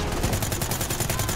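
Rapid automatic gunfire from the video game Call of Duty: Black Ops 3 rattles out in an unbroken burst of evenly spaced shots, loud and close throughout.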